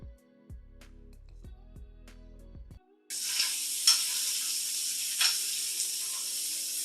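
Meatballs brown in a hot pan for a hearty baked pasta, a loud steady sizzle that bursts in after a few seconds of quiet low clatter, with brief sharper spits and crackles over the hiss.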